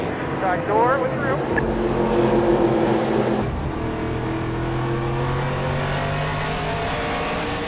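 Race cars roar at the start of a stock car race, engines revving and droning with shifting pitch, loud and continuous under a commentator's voice.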